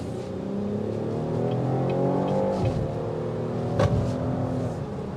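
A 2024 Cadillac XT6, front-wheel drive, accelerates on a test drive, heard from inside: the engine hum rises steadily in pitch over a few seconds, moderately quiet, with a brief knock near the end.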